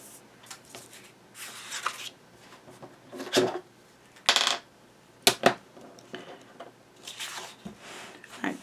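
A cutting mat is handled on a papercraft table for building a ring-bound mini album, making soft irregular rustles, slides and a few sharp taps and clacks spaced across several seconds in a quiet room.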